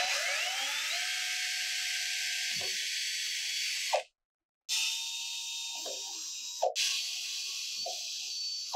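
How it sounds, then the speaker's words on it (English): A high-pitched drill whines steadily up close, drilling hole placements in a costume helmet, dropping out briefly, starting again, and pausing once more mid-run. "it's more expedient just to drill out the hole placements"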